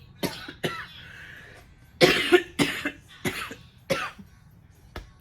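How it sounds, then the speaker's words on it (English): A person coughing: a series of short, sharp coughs in irregular bursts, close to the microphone in a quiet room. "I ain't been coughing that much all day."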